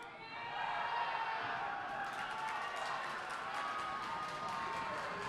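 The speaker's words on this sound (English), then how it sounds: "Crowd's trying to get him into it." A crowd at a high school homecoming wrestling show cheers and shouts in a steady, dense roar that holds at a similar level throughout, with a commentator's voice partly audible beneath it.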